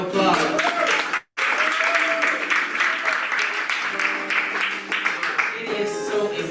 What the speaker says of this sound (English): Give me Queen another round of applause.